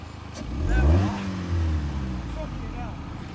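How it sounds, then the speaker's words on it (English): A car engine revving during a rev contest at a car club camp-out, a rising roar that peaks then settles to a lower idle and blip, with people talking over it. "Rev contest!"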